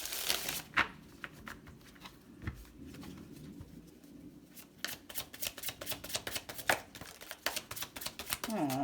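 Tarot cards are pulled and shuffled from a deck during a love reading, making close, quiet papery flicks and slides that quicken into rapid riffling toward the end.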